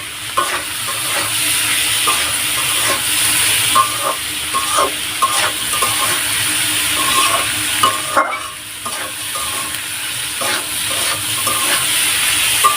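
Dal ingredients fry and sizzle in a pan under a steady close hiss, with a spoon scraping and stirring in a loose repeating rhythm throughout; no voices.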